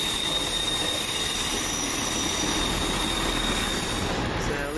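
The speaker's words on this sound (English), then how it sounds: "Leaving the 13:45 Virgin train service from Glasgow Central to London Euston via Birmingham New Street" The 13:45 Virgin service from Glasgow Central to London Euston pulls out of Wolverhampton station with a steady loud rumble of rolling wheels and a thin, high, sustained wheel squeal.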